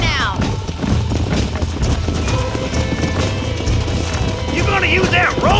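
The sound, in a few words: horses galloping and whinnying in video game Red Dead Redemption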